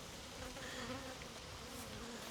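Honeybees drone in a steady, close buzz during an apiary inspection of a queenless hive, continuous and moderately loud, with no voices.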